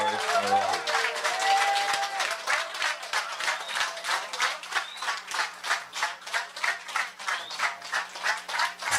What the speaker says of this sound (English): I want you all to stand and welcome with a round of applause Senator, the Honorable Faris Arawi